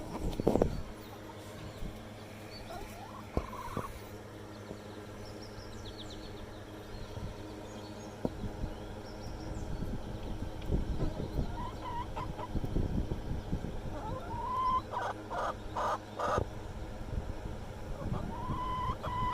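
Backyard chickens cluck and call in scattered bursts against a low background hum, growing busier and more frequent toward the end, with brief sharp knocks in between.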